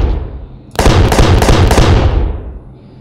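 Loud rapid bursts of heavy automatic cannon fire from a ship's auto cannons in Space Engineers, about five thumping shots in quick succession, then a fading rumble.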